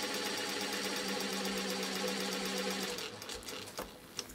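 A sewing machine driven by a servo motor runs at a fast, even, rapid stitching rhythm for about three seconds, then slows to scattered clicks and a final tap, close by and without speech.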